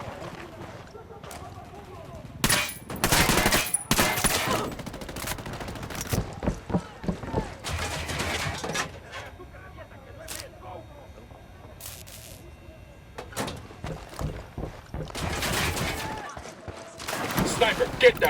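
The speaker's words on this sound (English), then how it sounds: "I'm opening fire." Gunfire in Ghost Recon Wildlands: bursts of rifle shots ring out in sharp, loud clusters amid a firefight, with shouting voices and ambient game sound between volleys.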